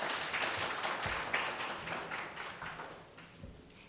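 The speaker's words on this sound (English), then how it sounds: "let's give our panelists a round of applause" An audience applauds panelists at the close of a climate science and carbon markets panel session, a steady wash of clapping that thins slightly toward the end.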